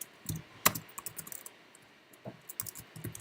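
Keystrokes on a computer keyboard while working in a terminal, a quick burst of light clicks followed by scattered taps, close and fairly quiet with no voices.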